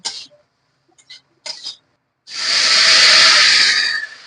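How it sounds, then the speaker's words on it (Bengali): Water poured into a pan of sautéed potatoes sets off a loud burst of hissing sizzle that holds steady for about two seconds after a few short clatters and quiet pauses. "এখন আমি জল দিয়ে দেব"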